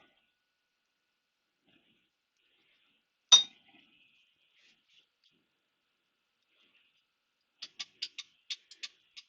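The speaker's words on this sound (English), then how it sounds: "I'll just blow some grease through it just to confirm it's clear" A grease gun pumps grease through the swing arm nipple of a BSA B50 motorcycle: a sharp single clack, then after a pause a quick run of about eight small clicking squirts close by, in an otherwise quiet space.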